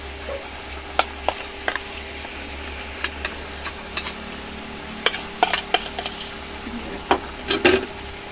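Onion paste is dropped into hot oil for riyaji mutton and fries with a soft, continuous sizzle. Sharp clatters and scrapes from the pan come and go, close and without talk.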